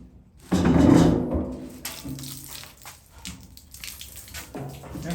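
Water pours near a van fuel tank being cut and welded, a loud rushing burst that fades into softer trickling and splashing.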